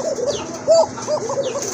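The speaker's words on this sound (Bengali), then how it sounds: "এই যে দেখেন মাশাআল্লাহ কত ডাকে, এটা কিন্তু ডাক থামেই না" A Bokhara coca pigeon gives a short run of soft, close coos, one slightly louder than the rest, in a quiet setting.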